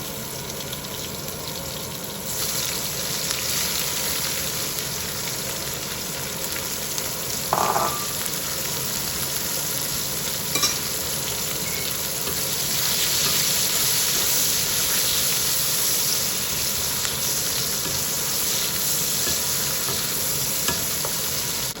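Chopped onion hits hot oil for rui fish curry, giving a steady broadband sizzle that swells loudly from about two seconds in. Stirring scrapes run through it without a break, and there is no talk.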